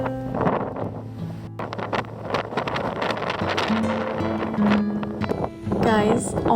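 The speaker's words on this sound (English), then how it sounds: "it is so windy. Like, at some points in this castle here, I feel like we're just blown away by the wind." Strong wind buffeting the microphone at a Sintra castle, a rough, gusty roar with intermittent bursts, mixed with other faint ambient sounds.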